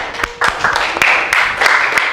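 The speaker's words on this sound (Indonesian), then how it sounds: "Tepuk tangan dulu buat usaha kalian." Students in a classroom applaud their groups' effort, a short burst of uneven clapping that swells and holds at moderate loudness with sharp individual claps standing out.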